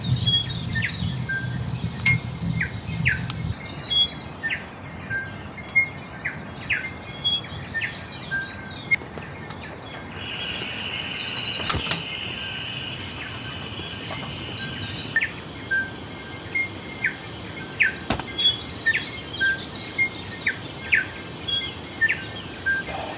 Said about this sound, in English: just enjoy listening to those birds